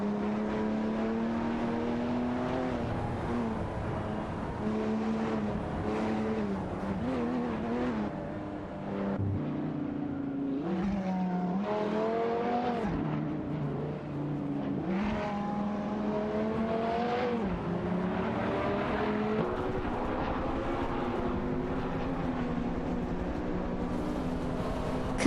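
Racing cars in a video game, Dodge Viper GTS ACR 99s among them, whine and roar continuously with engine pitch rising and falling through gear changes as several cars run close together on track.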